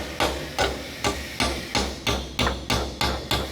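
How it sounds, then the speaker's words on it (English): Wedge hammer striking wedges while dismantling a German wartime engine, ten sharp metallic blows at a steady, even rhythm, loud and close with no talking. "Wedge hammer."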